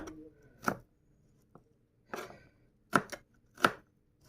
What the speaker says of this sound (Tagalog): Kung tama itong ginagawa kong paghiwa ng bawang.